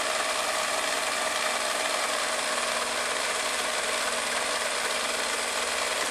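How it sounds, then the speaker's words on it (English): A long-arm quilting machine, fourteen feet long, stitches steadily with a dense, even mechanical whir that runs loud and unbroken throughout. "Here's Judy using her machine quilt."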